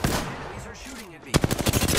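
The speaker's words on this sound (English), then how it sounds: "Enemies are shooting at me." Rapid machine-gun fire from enemies in a video game, a fast rhythmic burst of loud close shots following a stretch of busy game sound.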